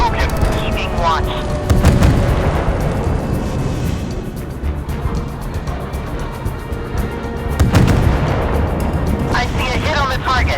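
Naval gunfire and explosions in the warship combat game Force of Warships, with heavy booming blasts around two and eight seconds over a constant low rumble, mixed with game voice callouts.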